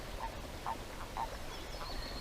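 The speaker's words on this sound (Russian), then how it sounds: "Очень-очень много лягушек." Frogs croaking at a lake during mating season, several faint croaks spaced out over steady background noise, somewhat distant and with no talking.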